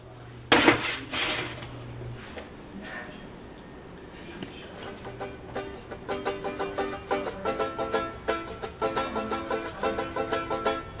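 Metal stove plates are set back onto a stovetop after cleaning, with a loud clatter at first, then a run of rapid, repeated metallic clinks and scrapes close by, with some talking.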